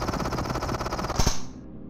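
Submachine gun burst fire in the VR game Into The Radius, a loud rapid stream of shots lasting over a second and ending abruptly with a short ringing tail.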